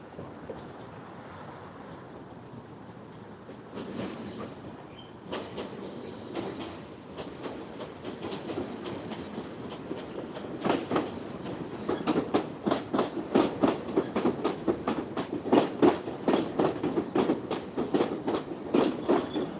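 A train passes close by, its wheels clattering in a quickening rhythmic clickety-clack that grows louder and steadier over the clip.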